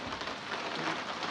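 Steady rain falling on surfaces in a Punjabi village, growing heavier, a dense continuous hiss of drops with no voices, close and even throughout.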